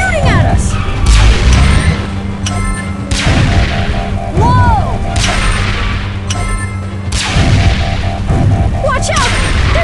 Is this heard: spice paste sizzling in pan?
no